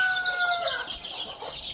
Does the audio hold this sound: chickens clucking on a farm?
yes